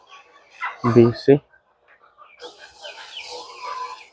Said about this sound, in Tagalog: Mga manok natin guys